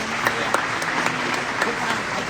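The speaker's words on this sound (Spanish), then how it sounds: "Un aplauso, por favor." An audience at the opening ceremony of a school Model UN conference gives brief, steady applause, with a few sharper individual claps standing out over the even patter.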